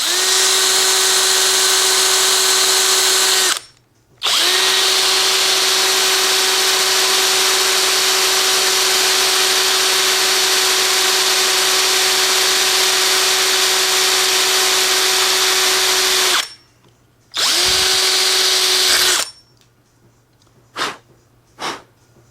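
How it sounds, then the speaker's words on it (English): A power drill bores through a Saiga 7.62 rifle receiver in long, loud, steady whining runs, cutting off briefly between passes, then stopping, followed by a few quiet clicks. "You're going to want to drill all the way through, not the bottom of the receiver, but you'll feel a hollow spot."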